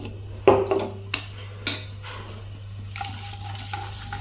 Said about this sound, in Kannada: ಇದನ್ನು ಈ ರೀತಿ ಫ್ರೈ ಮಾಡ್ಕೊಂಡ್ರಿ. ಸಣ್ಣ ಉರಿ ಒಳಗೆ ಇಟ್ಕೊಂಡ್ರಿ.